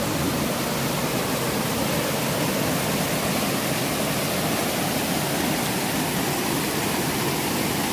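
Running water beside a woodland hiking trail in Pennsylvania woods, a loud, close, unbroken broadband rush like a small waterfall or stream, steady for the whole stretch with no voices.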